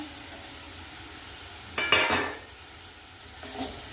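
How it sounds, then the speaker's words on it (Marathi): Carrots, corn and green peas added to a hot pan and sautéed, bringing a sudden burst of hissing sizzle and a clink of utensil against the pan over a low steady frying background. "मी अर्धी वाटी गाजर घेतलेले, अर्धी वाटी कॉर्न्स घेतलेला आहे आणि अर्धी वाटी मी हिरवा वाटाणा घेतलेला आहे। हे यात घालून घेऊया।"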